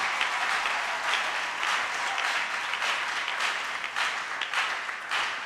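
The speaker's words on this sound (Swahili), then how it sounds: "Let us clap to the Lord Jesus Christ." A church congregation applauds in praise, a sustained dense wash of many hands clapping at steady volume throughout, filling the room without pause.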